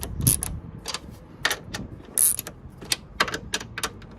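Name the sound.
tightening strut bar nuts on a Hyundai Veloster N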